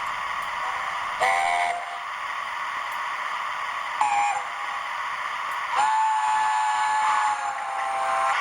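Short train whistle toots recur over a constant hissing background, fairly faint and a little distant.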